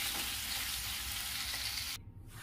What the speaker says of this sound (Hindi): चिकन को मैं फ्राई कर ली हूँ